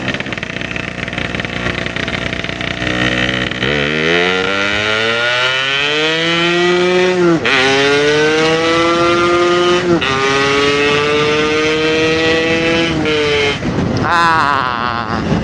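A Yamaha RX King two-stroke motorcycle revs in first gear, its engine loud and close, the pitch climbing in repeated long pulls from about 4000 to 7000 rpm with brief drops between them.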